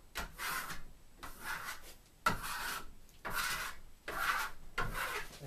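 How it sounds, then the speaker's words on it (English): A steel trowel burnishing Marmorino Venetian lime plaster with deliberate strokes, producing five distinct raspy swishes in a slow, even rhythm, close up and quiet with short pauses between passes. "Just nice and deliberate motions with the trowel, compressing and burnishing at the same time."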